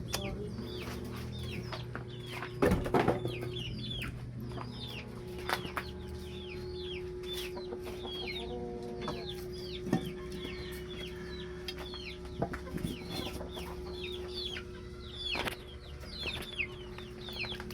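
Chickens cluck steadily in a rural Marinduque yard beside a bamboo hut whose floor is being replaced, with short repeated calls from several birds over a low background hum and a few sharp thuds.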